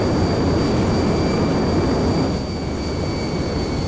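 Aircraft engine in Garry's Mod straining but failing to lift off, a loud continuous roaring drone with a steady high whine, close and unbroken, easing slightly toward the end.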